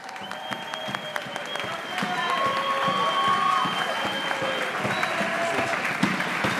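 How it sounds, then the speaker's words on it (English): A school band concert audience applauds, a dense wash of clapping that swells after a couple of seconds, with scattered cheers and whoops mixed in and some voices talking under the noise. "let's cheer them on one more time"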